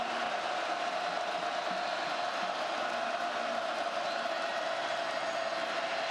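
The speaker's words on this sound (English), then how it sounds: "Crowd coming alive from Carter-Finley Stadium." A football crowd at Carter-Finley Stadium roars steadily in a dense, continuous wash of cheering, even and sustained for several seconds with no distinct peaks.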